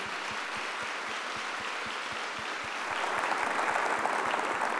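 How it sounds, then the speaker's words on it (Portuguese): Audience applause at a talk in a Portuguese-language religious broadcast setting, a steady wash of clapping with a faint regular low thump underneath that grows slightly louder toward the end. "Pode aplaudir."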